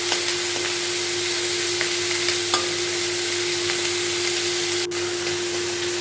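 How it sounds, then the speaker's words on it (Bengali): Shrimp fry in a pan with a close, steady crackling sizzle, even and unbroken apart from a momentary dip, and a constant low hum running underneath. "চিংড়ি মাছটা সেটাই আমার ভাজা ভাজা হয়ে এসেছে"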